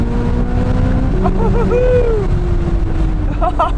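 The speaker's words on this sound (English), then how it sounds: "This engine is a screamer." A naturally aspirated V8 in a Corvette Z06 drones steadily from the cabin, its pitch swelling briefly as the revs climb and then settling back, loud and continuous while driving.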